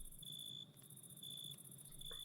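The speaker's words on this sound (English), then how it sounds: "did you hear the crickets chirping? It means it's night time" Crickets chirping at night in modded Minecraft, a faint, steady high trill that pulses in regular bursts, with a soft ambient bed beneath and no talking.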